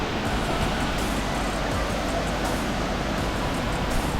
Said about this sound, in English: It is supposed to be the most beautiful waterfall here in Costa Rica.